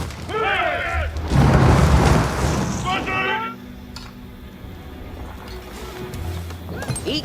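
A large explosion-like boom rolls out as an enemy cavalry post is destroyed in Age of Empires IV, set at the Battle of Hastings, with a loud rumbling crash over game effects and a brief horse-like sound before.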